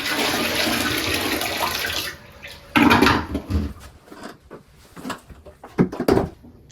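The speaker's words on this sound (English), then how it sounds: "I'm going to pour the water that I collected into the toilet bowl" A gush of water poured into a toilet bowl, then splashing and gurgling as it drains, followed by scattered knocks and handling noises nearby.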